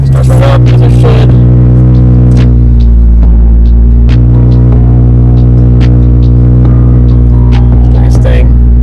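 BMW 340i with a B58 engine idling after a start, a loud steady low throbbing hum with strong harmonics and a few brief clicks and knocks over it, held for the whole stretch.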